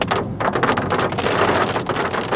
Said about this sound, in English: The rain is very sporadic, but when you're under the clouds, it gets very heavy.